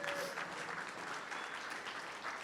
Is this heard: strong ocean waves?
no